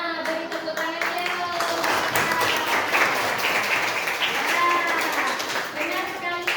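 Classroom applause from students, steady dense clapping that runs throughout, loud and close, with children's voices mixed in.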